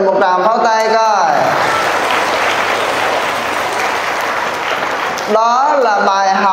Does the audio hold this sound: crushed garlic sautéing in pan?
no